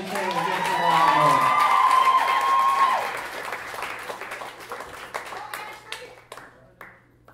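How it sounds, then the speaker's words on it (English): A live crowd breaks into loud applause and cheering for performer Ashley Sham, with whoops and shouts over dense clapping that peaks early, then thins into scattered claps and fades. "let's give it a round of applause for Ashley Sham against the wall"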